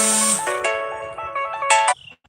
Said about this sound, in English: I'm getting a phone call